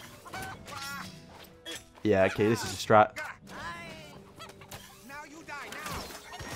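Cartoonish chicken clucks burst out in two short loud clusters amid game sounds in South Park: Phone Destroyer, with a player talking over and between them.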